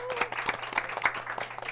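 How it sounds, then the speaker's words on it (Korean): Audience applause welcoming an author onto the stage at a book forum in Gangnam, a short, fairly faint patter of several hands clapping irregularly in a room, with no one speaking. "박수 부탁드립니다."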